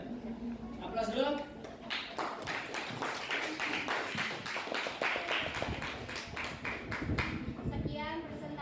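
An audience applauds after a presentation, with steady, fairly faint clapping that runs for several seconds, and voices can be heard talking over it.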